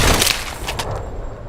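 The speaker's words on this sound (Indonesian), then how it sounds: "gara-gara tembakan tadi, Tyler tidak bisa bangkit lagi." A burst of loud gunfire at the start, sharp cracks fading into a rumbling echo over roughly a second and a half.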